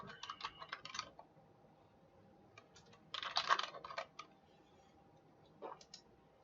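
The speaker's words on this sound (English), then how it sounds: "Guys, I'm not used to this keyboard anymore." Fingers typing on a computer keyboard during logo design work, quiet, close clicky keystrokes in short irregular bursts with brief pauses between them.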